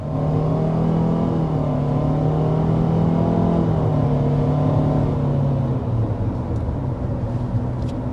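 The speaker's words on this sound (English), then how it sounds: "It's kind of coarse sounding when you accelerate, but it quiets down once you get up to speed." A 2026 Mitsubishi Outlander SUV engine revs up under steady acceleration, a coarse, droning motor tone that rises and then settles, loud and continuous with no voices.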